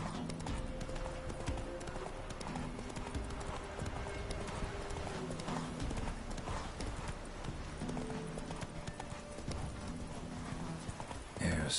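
Steady clip-clop of a horse galloping in The Witcher 3, continuous and fairly loud throughout, with a brief whinny-like tone and game music faintly underneath.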